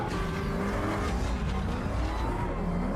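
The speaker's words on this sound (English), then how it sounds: "Drifting." A car drifts with a sustained engine roar and tires skidding and squealing, loud and continuous throughout, with no voices.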